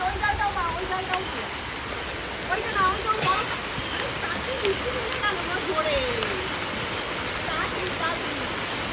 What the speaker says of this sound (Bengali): বৃষ্টি নেমে গেছে অলরেডি।